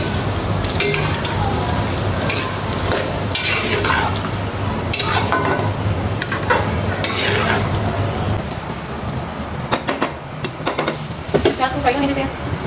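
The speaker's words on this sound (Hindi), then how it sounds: "प्याज को फ्राई होने देते हैं।" Onions frying in a pan, a dense continuous sizzle with intermittent scraping and clatter from stirring, under and between someone talking nearby.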